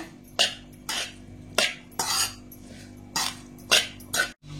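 A spatula scrapes and clanks in a pan as egg rice is mixed for a children's lunch box, producing about seven regular, close stirring strokes.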